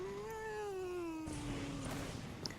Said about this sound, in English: I just heard your cat.